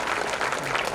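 Audience at a school annual day function claps steadily and loudly, a dense continuous applause filling the hall throughout.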